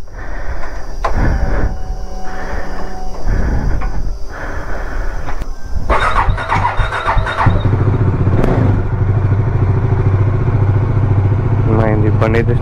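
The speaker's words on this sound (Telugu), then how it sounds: "బండి అయితే స్టార్ట్ అయింది." A Bajaj Dominar 400 motorcycle engine cranks and catches during a general service, its loud rumble settling into a steady idle after some clattering, with a brief squeal near the end.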